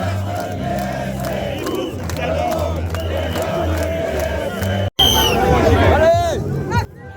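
Large May Day march crowd of protesters, a dense continuous hubbub of many voices with shouts and cries rising over it, loud and close, briefly cutting out near the middle before the noise swells again.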